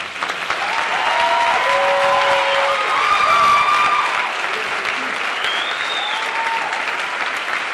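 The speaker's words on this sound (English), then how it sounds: "So you guys can clap it up." A chapel audience claps and cheers loudly, a sustained wave of applause with whoops and shouted voices on top that holds steady before easing slightly toward the end.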